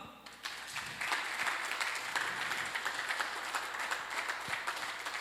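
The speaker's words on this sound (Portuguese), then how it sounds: "Vamos aplaudir o Senhor?" A church congregation claps together in a sustained, dense round of applause that rises quickly and holds steady, moderately loud and a little distant.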